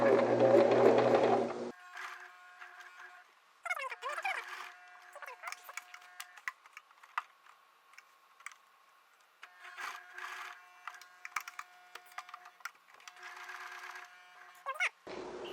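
Sewing machine stitching a shirt collar: a loud burst of whirring at first, then several short runs of rapid ticking stitches separated by pauses, with a voice talking between them.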